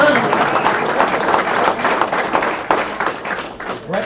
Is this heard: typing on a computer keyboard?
no